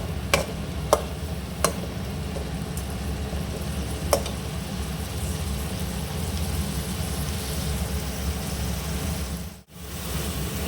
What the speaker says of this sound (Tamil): அதையும் இஞ்சியோட பச்சை வாசனை போகிற வரைக்கும் நம்ம கிளறிக்கலாம்